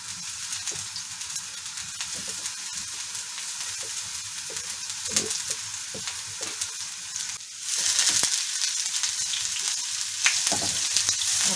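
Onion frying in butter in a pan, a continuous close sizzle with scattered crackles and stirring scrapes that swells louder toward the end.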